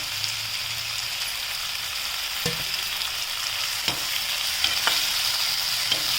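Tomatoes fry in a pan for dhaba-style paneer bhurji, giving a steady hiss of sizzling oil broken by occasional clinks and scrapes of a spoon stirring.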